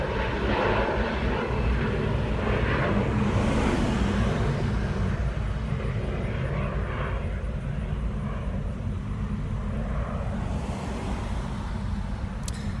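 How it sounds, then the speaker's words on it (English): An airplane passes overhead as a steady, loud engine drone that fills the whole stretch, swelling slightly and then easing, with no talking. "There's an airplane passing."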